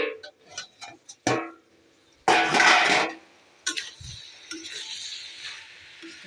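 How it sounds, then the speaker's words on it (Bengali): A cooking pot's lid is lifted during home cooking of a banana-stem dish, giving sharp metallic clinks and clatter followed by a burst of hissing steam or sizzle and softer scraping. "এবার ঢাকাটা খুলবো।"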